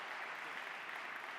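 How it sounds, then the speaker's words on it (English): Audience applause following a startup pitch at a pitch competition, a steady dense wash of clapping at moderate level, brief and continuous with no talk over it. "Big applause for Gerard"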